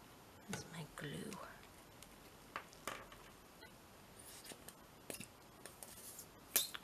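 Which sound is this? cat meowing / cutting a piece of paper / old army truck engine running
cutting a piece of paper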